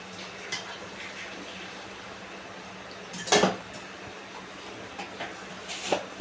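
A pan is set down with a brief metallic clatter midway on a Maharashtrian stove before oil goes in for taro-leaf bhaji, with faint kitchen clinks later over low background hiss.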